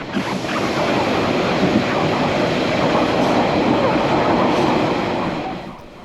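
Northern Explorer train pulling into National Park Station, a loud continuous rumble of wheels and carriage noise that holds steady before easing off at the end.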